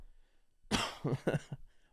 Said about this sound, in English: But you've been coughing on the last 3 episodes.